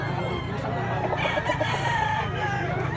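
Roosters crow and cluck amid a dense, steady crowd-like din, the bird calls rising faintly over the constant background noise.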